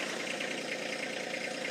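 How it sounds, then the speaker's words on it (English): A John Deere 1025R compact tractor engine idles at a steady rumble near 1,200 RPM, loud and close with a constant mechanical drone and no talking. "So this tractor right now is idling at about 1150, close to 1200."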